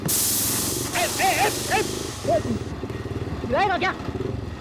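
A motorcycle ridden at night, its steady engine drone running underneath throughout while people talk over it.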